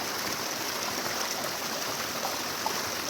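Steady, dense rush of the Chaulabhaja waterfall in Mayurbhanj, a continuous broadband roar of falling water heard close and loud without any break.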